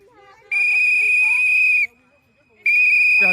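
Loud, shrill whistles blown near the ears of nurses, two long steady blasts with a short gap between them, each lasting over a second, close and piercing.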